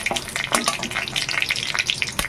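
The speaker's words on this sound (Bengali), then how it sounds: "মরিচটাকে একটু ভেজে নেবো। শুকনো মরিচ যদি একটু বেশি ভালো করে ভাজা হয় সেটা খুবই ভালো লাগে।" Dried red chilies fry in hot oil for a pumpkin-greens dish, giving a steady, close sizzle with a few sharper pops and spits throughout.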